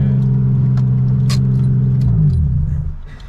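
A 1JZ-engined Scion FR-S idles with a steady low rumble as it is reversed into a parking spot, the engine note dipping near the end, with a faint jingle of keys.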